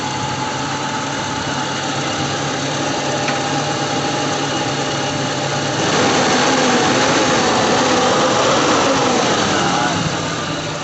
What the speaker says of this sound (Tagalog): Ito maganda na yung idle niya ngayon, oh.